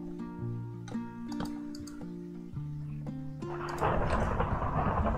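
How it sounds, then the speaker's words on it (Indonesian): A thunderclap rolls in during a Minecraft Java survival game, a loud broadband crash that swells over the steady tonal game music and then holds as a dense rumble to the end. "petir di dalam game"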